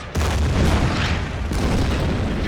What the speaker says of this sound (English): we do have the artillery. I suppose we could bombard you there